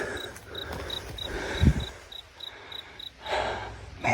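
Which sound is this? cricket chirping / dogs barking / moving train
cricket chirping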